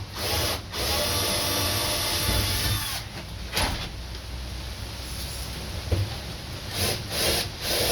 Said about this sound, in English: So, drill a couple holes